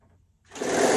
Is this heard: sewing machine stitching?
yes